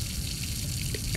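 Water filling up in the Layers of Fear video game, a steady rushing, faucet-like pour with a continuous splashing texture, close and fairly loud, with no talk over it.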